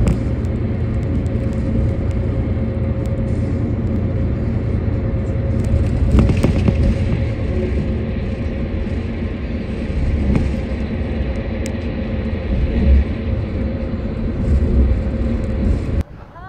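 Cabin of a moving intercity bus in Turkey on the road from Antalya to Mardin, a steady loud engine and road rumble with faint rattles and a brief clatter midway.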